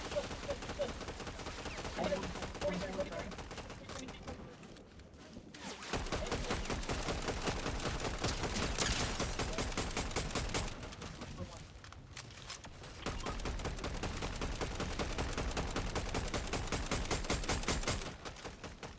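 Dense rapid gunfire in the video game Fortnite, long sustained bursts of automatic shots rattling almost continuously, loud and close, with brief lulls between volleys.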